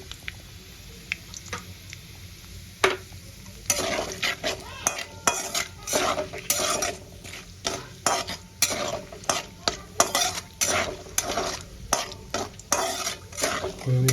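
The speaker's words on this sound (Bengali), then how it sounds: "ফোড়নটা হালকা একটু ভেজে নেব।" Whole spices crackle in hot oil as a traditional Bengali banana-flower dish is tempered, with a quiet sizzle under irregular scraping and knocking of a spoon stirring the pan, loud close strokes in quick bursts.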